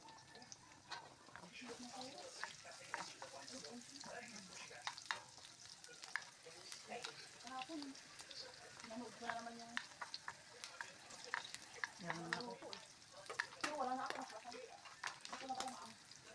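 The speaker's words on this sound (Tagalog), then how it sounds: "Sinunod ko ang bawang. Haluin lang hanggang manuot ang amoy nito." Meat and garlic sauté in a pan while being stirred, with a steady sizzle and repeated scraping strokes running throughout, and a voice talking quietly underneath.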